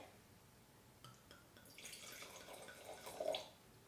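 Wine poured from a bottle into a glass during a tasting class, a soft trickling splash that builds over a few seconds and ends with a faint glassy ring, quiet and close.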